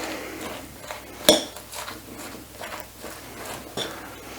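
Salt is mixed into a carrot top salad, soft tossing and scraping with one sharp utensil clink near the start and a lighter tap later, fairly quiet and close.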